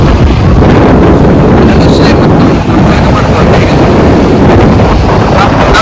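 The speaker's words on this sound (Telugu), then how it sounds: "గాలి సౌండ్ అది." Strong wind roars and buffets the microphone continuously, a heavy low rumble with no letup throughout.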